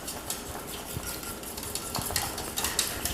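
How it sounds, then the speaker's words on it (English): Whisking a sauce after a couple of drops of Worcestershire go in, a steady scraping, clinking stir of a whisk against a pan, close and continuous, with a few sharper metallic taps and no talking. "a couple little drops of Worcestershire sauce, and whisk it together"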